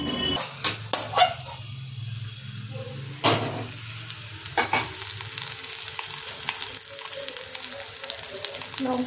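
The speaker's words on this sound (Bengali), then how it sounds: "লঙ্কাগুলো তেলের মধ্যে কেমন চিটিমিটি চিটিমিটি চিটিমিটি করতেছে।" Green chillies crackling in hot oil in a home kitchen, with a loud, busy sizzle and a few sharp pops and clatters of the pan early on, then a softer, steady fry.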